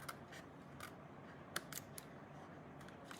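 Scissors trimming overhanging pieces of card, a few sharp quiet snips spaced irregularly against a soft, near-silent background.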